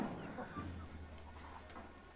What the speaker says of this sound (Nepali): यो चाहिँ भाले हो ठुलो।